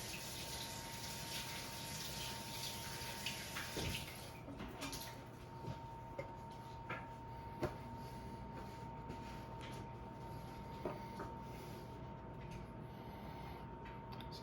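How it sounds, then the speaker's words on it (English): Tap water runs in a continuous, steady gush while hands are washed beneath it, with a few faint clicks and knocks over the flow and no talking. "I'm going to wash my hands"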